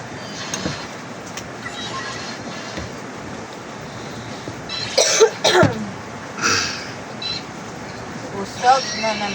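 A few short coughs break out over a rainy morning background while people talk nearby.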